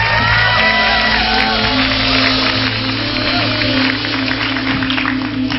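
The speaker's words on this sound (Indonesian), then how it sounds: "Tepuk tangan buat Late Night Show untuk malam hari ini" A studio audience at an Indonesian late-night TV talk show, Trans TV's Late Night Show, cheers and shouts loudly in a dense, continuous roar that holds steady throughout, with a low musical hum beneath.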